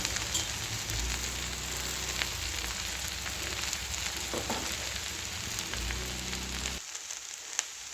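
Amaranth leaves sizzle steadily in hot oil in a pan during a stir-fry, a dense continuous crackle, close and even, that suddenly drops away near the end.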